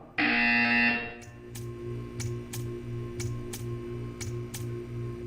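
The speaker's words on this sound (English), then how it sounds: "You will hear a buzzer. When you hear the buzzer, stare at the art." A loud buzzer sounds in the video game Portal, a sustained harsh tone lasting about a second, followed by a steady ticking rhythm of sharp regular clicks over a low hum.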